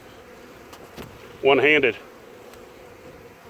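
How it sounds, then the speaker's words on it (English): Honeybees from a package, agitated in cold weather, give off a steady low buzzing hum throughout, with a voice briefly speaking over it midway. "The bees are a little bit agitated because it's cold"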